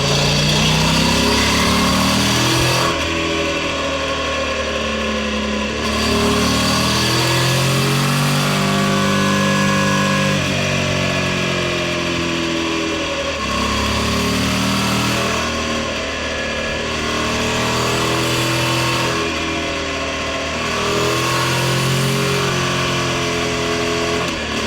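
A BMW F900XR motorcycle is ridden, its engine loud and continuous, rising and falling through gear changes, mixed with gearbox, chain and tyre-rolling noise and no talk.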